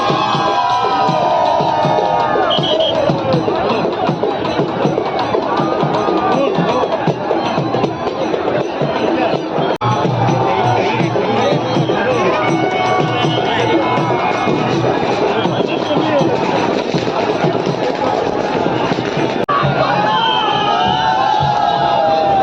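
A crowd of party workers cheers and shouts outside a polling station in Ratnagiri after alliance candidates win panchayat samiti seats, a loud, dense, continuous roar of voices with whoops throughout.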